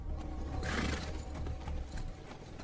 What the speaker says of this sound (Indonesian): Dengan menunggangi seekor kuda dan ditemani seekor anjing kesayangannya, dia pun berangkat ke kota.